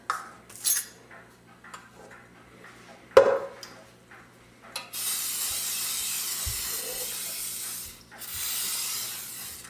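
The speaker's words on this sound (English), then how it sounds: "now I'm ready to spray my pan and then my Dutch oven robber. And I use canola oil for that." Canola oil is sprayed onto a pan and a Dutch oven in short bursts of hissing aerosol, preceded by light clinks of metal cookware, with two longer sustained sprays near the end.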